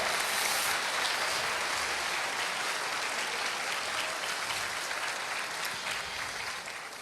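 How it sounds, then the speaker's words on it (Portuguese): A church congregation bursts into loud, sustained applause during a sermon, a dense wall of clapping from many hands that holds steady for several seconds and then starts to fade. "Dê uma forte salva de palmas para Jesus"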